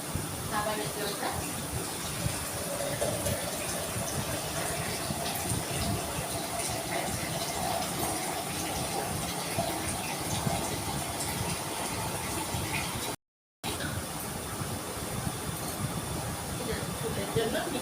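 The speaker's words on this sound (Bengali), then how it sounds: "আমি একটু মিক্সিটার মধ্যে একটু ঝোলের জন্য জল নিয়ে নিই" Drinking water pours steadily into a mixer grinder jar for a Bengali pabda fish curry gravy, a continuous near gush of liquid with a faint hum underneath, cut by a brief gap near the end.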